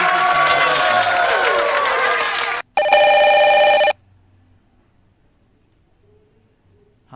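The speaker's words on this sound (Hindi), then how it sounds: "रिंग आ रही है ना, फ़ोन की रिंग आ रही है" A telephone ringtone plays as a sound inserted into a PowerPoint slide, with a loud steady electronic ring, a brief gap and a second burst, then near silence.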